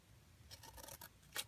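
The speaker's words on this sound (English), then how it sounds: "we're just going to take our craft scissors and we're going to cut a notch" Craft scissors snip a notch into paper in a card-making session: a quiet crunchy cutting sound of several short closing strokes, ending in one sharper, louder snip, close by with no talk.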